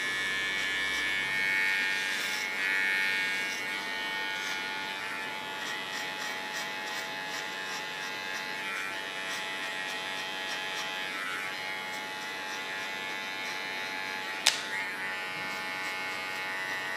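Steady buzzing hum of an electric hair clipper with its blade set to 1 millimeter, cutting close along the hairline around the ear, continuous and near with a small click late on.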